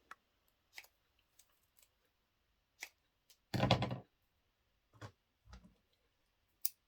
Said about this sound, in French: On recoupe le scotch.